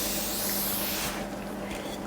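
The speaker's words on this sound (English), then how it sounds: "I am just going to set everything using the Thermo water spray" Avène thermal water setting spray misted over a made-up face: a steady, close, loud hiss for about a second that then thins into a softer lingering spray, with no talking.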